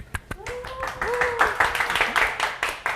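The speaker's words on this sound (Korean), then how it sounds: "그럼 큰 박수로 맞이하겠습니다." An audience at a startup information session claps to welcome the next speaker, scattered sparse claps that build into steady applause while a voice talks over the start.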